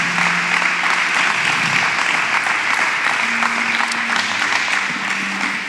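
A church congregation applauding during a worship service, loud sustained clapping from many people with a few faint sustained tones underneath, continuous and close throughout.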